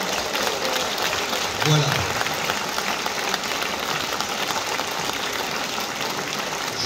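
An audience at a general assembly applauds in a continuous broadband wash that holds steady across the whole stretch, with a person's voice talking over the clapping.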